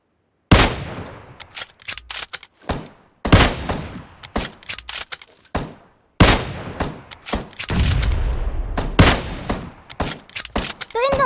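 Bursts of game gunfire in PUBG Mobile, played with a Kar98k, crack out in loud clustered volleys with short gaps, taking down two players in rapid succession.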